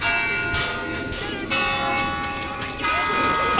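A bell tolls repeatedly inside a Left 4 Dead 2 game level, sustained ringing tones that overlap and decay, mixed with game noise and voices talking over it.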